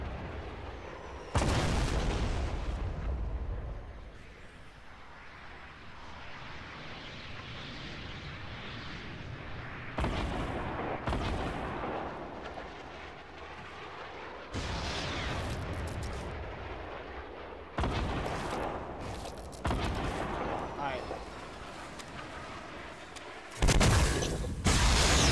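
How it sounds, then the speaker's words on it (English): In Fortnite Battle Royale, guided rockets detonate in a series of heavy booming explosions spaced a few seconds apart, each a sharp loud burst followed by a rumbling tail over a steady background of game noise. "You have two guided rockets."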